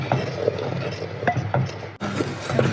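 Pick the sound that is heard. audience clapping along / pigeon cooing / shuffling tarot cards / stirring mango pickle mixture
stirring mango pickle mixture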